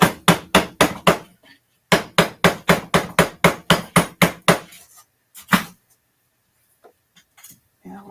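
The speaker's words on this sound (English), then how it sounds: "what I'm going to do is take it and hammer it a bit, and that will stretch it out just a little bit" Metal piece being hammered in a metals studio to stretch it, a rapid series of about twenty sharp, ringing strikes in two bursts, then a single blow and a few faint taps.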